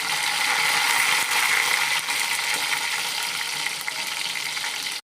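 Green chilies and curry leaves sizzle in hot tempering oil for a chutney, a loud, steady hiss and crackle close by, holding for about five seconds before stopping abruptly.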